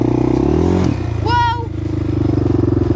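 A Honda 400EX ATV engine revs loudly and close by, its pitch dropping and settling as a gear shift goes through, with a voice speaking briefly over it.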